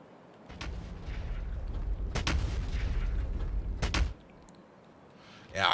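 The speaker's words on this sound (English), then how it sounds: "I do kind of like the very monotone rhythm of the gun, just shooting one after another." An artillery gun in Factorio's Space Exploration mod firing shot after shot, chunky booming reports at a steady spacing with a ringing tail between them, followed by a short quiet stretch and another blast starting.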